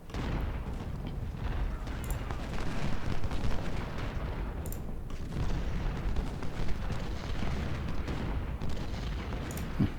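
Continuous rumbling battle din from Civil War artillery cannon fire in the Ultimate General: Civil War game, dense booms layered over one another, with a few sharp louder reports standing out at intervals.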